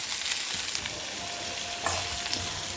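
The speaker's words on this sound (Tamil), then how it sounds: "வதங்கி வந்தோடனே நம்ம கட் பண்ணி வச்சுருக்க தக்காளி சேர்த்து வதக்கணும்." Onions and tomatoes for kara chutney sauté in a hot pan, a steady loud sizzle and frying hiss with occasional stirring scrapes, no voices.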